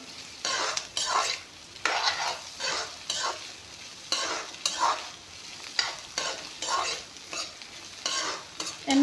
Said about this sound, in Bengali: এতিয়া কণী ভাজিখিনি যিহেতুকে দি দিলোঁ এতিয়া অলপমান টাইম ভাজি ল'ম